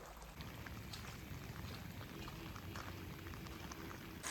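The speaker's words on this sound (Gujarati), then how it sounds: "અને અત્યારે વરસાદ ચાલુ જ છે" A steady, dense patter of unseasonal rain falls on a flooded farm field, an even hiss with scattered drops, constant throughout.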